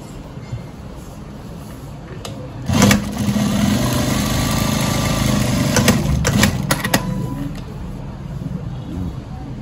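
A JUKI SC-500/8700-7 automatic cutter machine runs with a steady mechanical hum, while a few sharp clicks and clacks from the cutting and locking action stand out near the middle.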